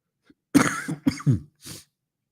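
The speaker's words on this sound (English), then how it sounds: "Still got the cough a little bit" A man still recovering from an illness coughs in a quick cluster, three or four harsh, throaty bursts close up with brief silences between them, with no talking.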